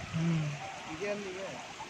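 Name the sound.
water flowing in a stream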